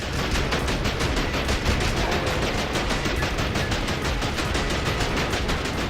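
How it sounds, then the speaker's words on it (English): An enemy gun in Wolf of the Battlefield: Commando 3 fires a rapid, steady stream of retro arcade shots, evenly spaced pops repeating without pause throughout at constant loudness. "The gun is firing at me"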